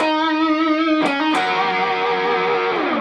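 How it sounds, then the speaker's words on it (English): Electric guitar with distortion playing a short stereotypical blues line: a sustained bent note, two quick picked attacks, then a ringing held note fading out, alone and clear. "he explicitly plays a stereotypical blues line right here"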